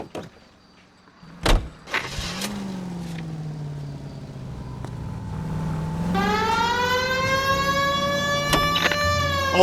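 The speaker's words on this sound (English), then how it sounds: "We have a siren." A police car siren in the L.A. Noire video game winds up after a door thunks and the engine starts, rising into a steady, loud wail that sustains to the end.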